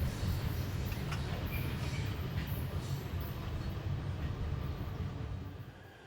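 A CSX freight train hauling 99 loaded hoppers rolls past in West Virginia, a steady, loud low rumble of wheels and cars that holds even before easing slightly at the end.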